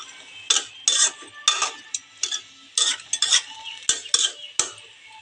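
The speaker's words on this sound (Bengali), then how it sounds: "পটলগুলো জলের সাথে মিশিয়ে নেব, যেন সবগুলো পটল জলের সাথে" Pointed gourd pieces stirred in water in a metal pot, a series of quick scraping clinks and knocks from a utensil, close and alone.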